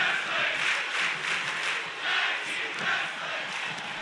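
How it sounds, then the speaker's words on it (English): An indoor wrestling crowd roars and cheers continuously during a tag team match, a dense wash of voices that swells and dips in waves, with scattered shouts rising above it. "Crowd loving the tag team bout we are witnessing tonight."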